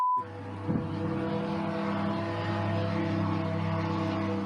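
A steady, droning engine hum with a buzzing tonal whine holds continuously overhead as a drone flies by, like a small propeller craft.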